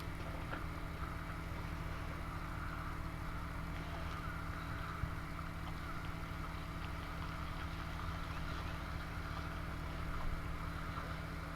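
Boat engine idling and maneuvering while being backed up at a boat dock at Browder's Marina, a steady low motor hum with wind buffeting, constant and moderately near throughout.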